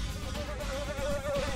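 Bees in the video game TimeSplitters 2 give off a steady, droning buzz, a continuous insect hum with a wavering pitch over a low background rumble.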